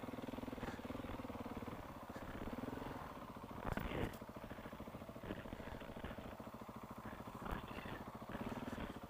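A motorcycle climbs over rough mountain terrain, its engine revving and puttering unevenly with clattering bumps, heard at a moderate distance and fairly faint.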